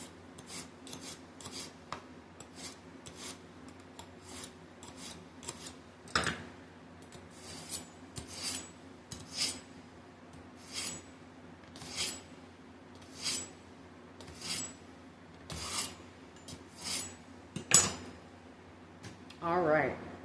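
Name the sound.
sharpening a knife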